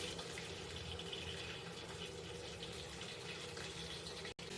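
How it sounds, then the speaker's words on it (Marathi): Cooking oil pours steadily into a hot pan for a chilli garlic tawa chicken, giving a continuous liquid gush and faint sizzle with a brief dropout near the end. "तर सगळ्यात आधी आपण याच्यात तेल टाकून घेऊया"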